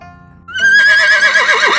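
A horse neighs loudly and close, a long whinny that climbs and then wavers, after a quieter opening.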